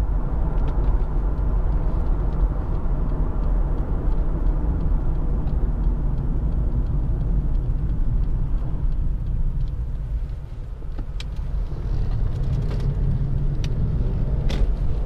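A Lexus IS 250 2.5 SE saloon drives on a dead-straight track under hard acceleration. It gives a steady, loud, close cabin rumble of engine and road noise that dips briefly before building again as it pulls through the gears.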